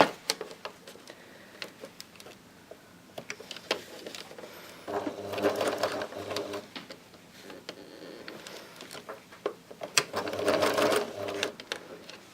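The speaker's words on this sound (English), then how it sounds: "And just use a 3-step zigzag. This is how I sew the ends of all my elastic." Sewing machine running a 3-step zigzag stitch across the joined ends of elastic for a scrunchie, with bursts of rapid rhythmic stitching between quieter pauses and small handling sounds, close by, no voices.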